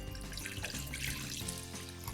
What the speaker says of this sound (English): so to the chicken in the pot, I'm gonna add cold water